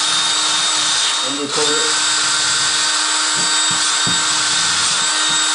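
A power tool spinning a wire brush to strip paint off a die-cast Dinky toy car, a steady loud whine throughout with brief dips as the brush bites, while someone speaks briefly over it.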